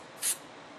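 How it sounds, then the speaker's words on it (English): A brief, light burst of spray paint hisses onto a horse painting, one short puff standing alone in a quiet room. "Now, we're just going to spray very lightly."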